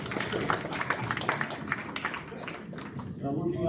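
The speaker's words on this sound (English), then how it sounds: "I think they deserve a round of applause" Audience at a chamber of commerce candidate forum claps steadily for several seconds, a dense, sustained patter of many hands filling the room, with a few voices mixed in toward the end.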